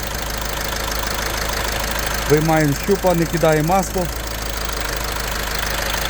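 A 2013 Volkswagen Caddy engine idles with a steady low rumble throughout, while someone speaks briefly midway.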